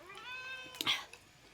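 A single drawn-out cat meow close by, rising and then breaking off, over quiet room noise.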